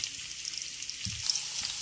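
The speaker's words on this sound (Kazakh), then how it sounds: "Пиязымызды салып, пиязымыз қызарғанша қуырып алайық." Onions sizzle in a pan as they are fried until browned, a soft, even hiss that stays close and steady, with one brief low knock near the middle and no talking.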